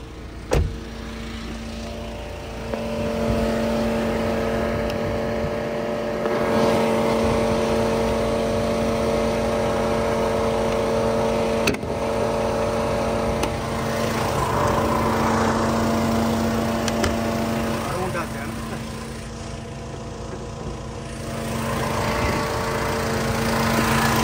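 A Jeep Compass top-end model engine idles steadily, a close, even hum with a faint whine that holds throughout.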